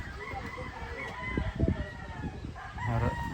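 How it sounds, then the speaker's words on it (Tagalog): Hens and a rooster on a farm cluck and crow from a coop, with short bursts of clucking and a crow near the end, while people talk nearby. "Yan ang mga inahinan dito sa kulong."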